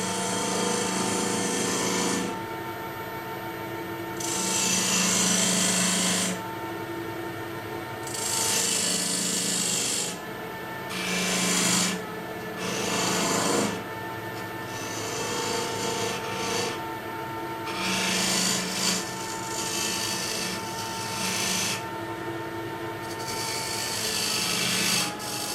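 Woodturning lathe with a small 1/4 inch skew chisel cutting rings into a beech bowl base, bursts of scraping, rasping cuts alternating with quieter spinning gaps, close and fairly loud with no talking.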